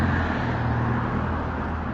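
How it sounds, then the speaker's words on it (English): A loud car drives past, its engine a steady low rumble that holds close and strong for the full two seconds, with no one talking. "Here's the loud car."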